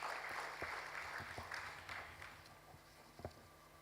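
An audience at a survey and immunization coverage launch event applauds, a dense wash of clapping that fades over a few seconds, with a couple of isolated claps near the end.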